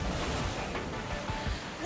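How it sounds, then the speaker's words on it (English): Ocean waves surge and crash into a large rock cave at the Kiama Blowhole on Australia's east coast, giving a continuous loud roar of surf with low rumbling thumps and wind noise on the microphone. "A huge vibration as the waves hit a big cave under all this rock."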